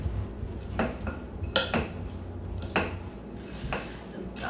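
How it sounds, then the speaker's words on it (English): Wooden spoon tossing a salad of shredded cheddar cheese in a bowl, with several clattering scrapes and knocks against the dish at uneven intervals, moderately close, no talking. "And something to toss. I'm going to use a wooden spoon."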